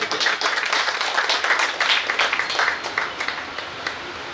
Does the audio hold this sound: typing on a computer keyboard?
no